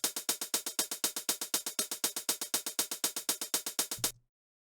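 Programmed hi-hats in Ableton play a fast, steady run of about thirty crisp ticks over four seconds, their accents rising and falling with varied velocities, then stopping abruptly with a brief low thud.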